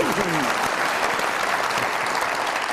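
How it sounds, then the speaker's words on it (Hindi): A studio audience applauds in a steady, dense wash of clapping that runs at even loudness for the whole span, with a voice briefly heard at the start. "बहुत सारी तालियां फैसल साहब के लिए"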